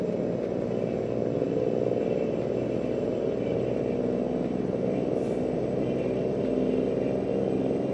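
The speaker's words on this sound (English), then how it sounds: "letting y'all hear that Cummins N14" Cummins N14 diesel engine in a Peterbilt or Kenworth W900 truck in American Truck Simulator, a steady, loud low rumble cruising continuously throughout with no talk.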